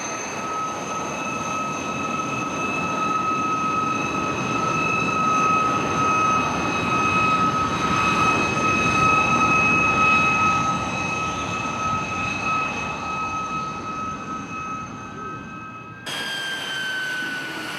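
A light aircraft engine drones steadily as the plane taxis toward the runway in an animated film, with a constant hum holding from start to finish before shifting slightly near the end.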